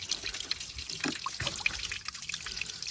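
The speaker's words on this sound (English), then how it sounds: "firing water into the scuttle gathering water there at the back" Water sprayed into the scuttle of a VW Golf Mk7 trickles and splashes in an uneven, close patter, moderately loud with brief drips.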